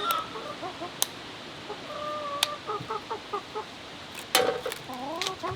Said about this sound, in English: we got chickens that came up here.